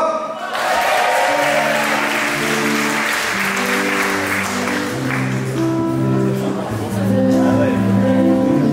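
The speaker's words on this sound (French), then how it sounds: "On l'applaudit bien fort." Loud, sustained applause from a crowd at a French concert fills the whole stretch, with a sung or spoken voice carrying faintly underneath and the clapping swelling slightly near the end.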